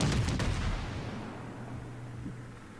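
Heavy main-gun salvo from the Atago heavy cruiser in World of Warships, a broad booming blast at the start that rolls off into a long fading rumble, with no talk over it.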